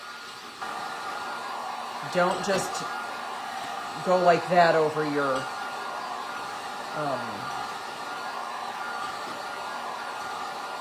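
A hair dryer blows a steady, fairly quiet airy whoosh over a paint stencil, running continuously while a person talks intermittently over it.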